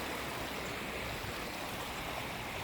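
Storm runoff flows through a yard after heavy rain, water seeping out of the ground in a steady, even rushing hiss with no breaks.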